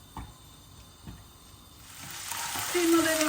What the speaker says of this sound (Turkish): Şimdi içine 100 gram kadar kıymam var. Onu koyuyorum. Kıymamı biraz kavuracağım.